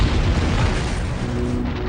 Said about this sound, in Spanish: esa presión provoca que el asteroide o el cometa exploten